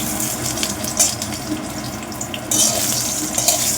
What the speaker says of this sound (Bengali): বেগুন ভাজছি